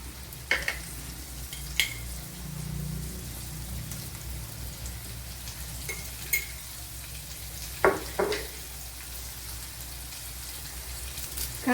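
Garlic and salt dropped into hot oil for a kovakka (ivy gourd) dish, a steady close crackling sizzle running throughout, broken by a few sharp clinks of a spoon against the pan.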